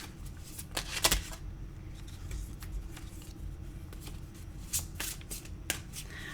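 Tarot cards being shuffled up close: a steady soft riffling and rustling broken by a few sharper clicks and snaps of the deck, with no one talking.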